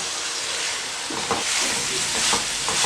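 Turnip and carrot curry sizzles and fries steadily in a pan while a spoon stirs it, with soft scraping taps over a constant hiss, close and fairly quiet.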